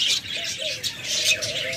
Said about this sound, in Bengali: দেখুন চমৎকার রেনবো কিছু বাজিগার রয়েছে।